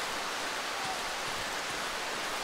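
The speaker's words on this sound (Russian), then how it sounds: "Дождик, хорошо пошел дождик." Rain falls in the Darkwood video game as a steady, even hiss spread across the whole clip, with no talking.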